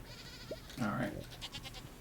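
A goat bleats in the Stardew Valley farming game, one short wavering call amid soft background game sounds, with a person talking quietly nearby.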